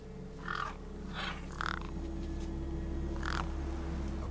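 Crows in an RPG video game cawing near a corpse, four separate harsh caws spaced apart over a steady low hum, moderately near and faint.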